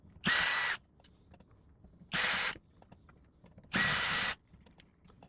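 A power driver unscrews screws from the bracket of an old Realistic STA-7 receiver in three short, loud whirring bursts, evenly spaced, with quiet clicks and handling in the gaps.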